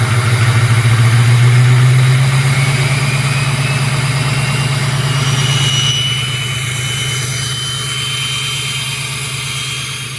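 A Ford 6.0 Power Stroke diesel truck engine with a hood stack sits at high idle after a cold start, a loud, steady close-up rumble with a deep drone that eases slightly partway through, no voices over it.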